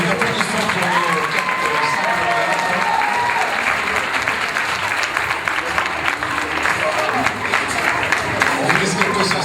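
A crowd at the Miss Teen France 2015 pageant applauds the winner and her four runners-up, sustained clapping that fills the whole stretch with a few voices mixed in.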